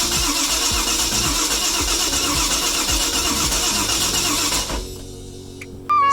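A 5.7 Mercruiser V8 in a 1995 Crownline boat, freshly fitted with new exhaust manifolds, cap and rotor, cranks loudly and repeatedly for several seconds, then catches briefly before cutting out, with a sharp click at the very end.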